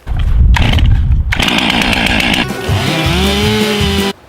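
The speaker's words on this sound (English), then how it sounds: "With this thing, you put the choke up and you pull it, and usually on the second or third time it starts up right away." A Stihl MS362 chainsaw is pull-started with the choke up: a couple of loud rasping pulls, then the engine catches and runs with a steady, close buzzing snarl that settles into a rising rev before cutting off.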